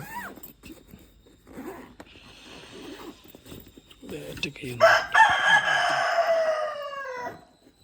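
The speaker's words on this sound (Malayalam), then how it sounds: "കുറച്ച് കോഴിക്കളുണ്ട്" Chickens cluck faintly before a rooster lets out a loud, drawn-out crow nearby, lasting a couple of seconds.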